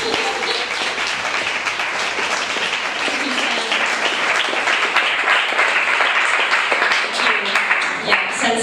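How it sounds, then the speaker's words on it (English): Steady, loud audience clapping at a book launch event, a sustained wash of many hands carrying on throughout without a break. "Can we just like clap for their entire family?"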